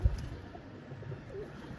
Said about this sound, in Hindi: आज बस यही कबूतर उड़ाएंगे।